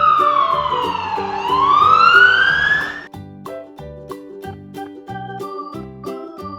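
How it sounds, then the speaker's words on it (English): A black toy police car siren wails in a loud rising and falling sweep, then gives way to a bouncy electronic jingle of short repeated notes, with no talk. "Black police car."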